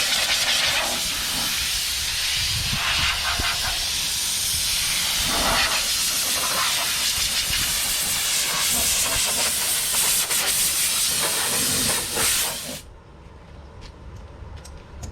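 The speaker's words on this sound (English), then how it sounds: "Let's hit it with some compressed air." Compressed air blasting onto a 1988 Pontiac Firebird with an LS swap, a loud, hissing rush in several sustained bursts that cuts off sharply near the end, leaving quiet.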